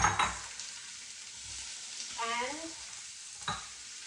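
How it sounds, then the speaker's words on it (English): Chopped leeks and onion sauté in olive oil, giving a soft, steady sizzle broken by a few scraping stirs of a spoon, close by with no one talking. "And I'm gonna go ahead and start sauteing those."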